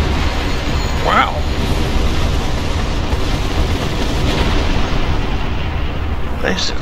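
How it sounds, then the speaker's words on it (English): A spacecraft explosion in the Star Trek Online video game, a broad sustained rumble of blasts and booming fire with sharp bursts near the start and end, continuous and loud throughout. "Nice explosion."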